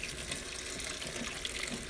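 A kitchen sink tap runs steadily while butter is rinsed under it, giving an even, close, continuous splashing hiss with no pauses.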